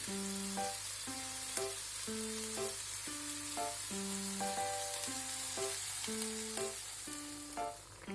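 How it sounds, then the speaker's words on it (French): Polpetti meatballs brown in a hot pan with a soft, steady sizzle, faint beneath a stepping tonal melody that runs the whole time. "L'objectif est de les dorer mais de ne pas les sécher."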